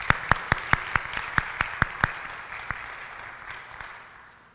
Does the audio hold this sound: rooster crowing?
no